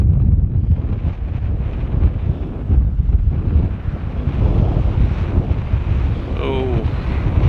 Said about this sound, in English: Wow, it's windy, so windy